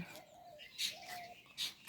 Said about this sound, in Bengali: গুগু পাখির ডাকটা আমার কাছে অনেক ভালো লাগে গুগু গুগু করতেছে